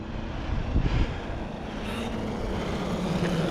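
A Traxxas Sledge RC truck runs at full throttle outdoors, its motor making a continuous whining roar that swells and passes, with a louder burst early on and steady engine noise after.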